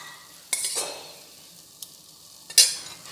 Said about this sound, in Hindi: और अब इसको हम आराम से भुनने देंगे।